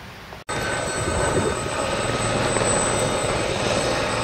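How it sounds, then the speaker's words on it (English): A helicopter flies nearby on a breezy autumn day, a steady loud rotor and engine drone filling the whole clip after a brief dropout near the start. "There's a helicopter over there."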